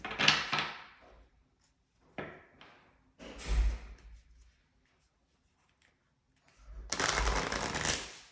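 An oracle card deck being shuffled by hand in three separate bursts of riffling and card slapping, the last one longest and loudest, with quiet gaps between.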